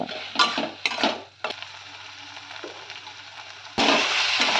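Spices with Kashmiri chilli powder and green chillies frying in a pan for moong dal tarka, bursts of stirring scrapes and sizzling alternating with a quieter steady sizzle, ending in a louder frying rush.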